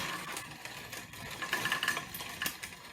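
A hand crank grain mill grinds dried flour corn into coarse cornmeal, giving a steady, close gritty churning with rhythmic surges from the turning crank, alone without talk.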